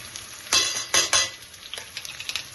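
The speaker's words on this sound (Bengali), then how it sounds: "টমেটোটা দিয়ে একটু নাড়াচাড়া করবো, জাস্ট একটু নাড়াচাড়া করবো" Tomato with salt, turmeric and Kashmiri chili powder frying in oil for a mashed eggplant dish, a low sizzle punctuated by two loud scraping stirs early on and lighter utensil taps afterward, close and without talk.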